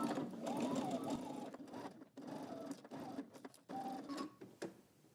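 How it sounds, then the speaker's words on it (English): A sewing machine runs a 5/8-inch seam in short close bursts of rapid stitching, stopping and starting, with a voice talking between and over the runs. "now we're going to stitch across using 5/8 of an inch seam allowance"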